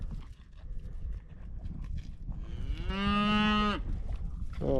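A cow grazing with a small herd at a Montana campsite gives one loud, close, drawn-out moo midway through, over soft background rustling and munching.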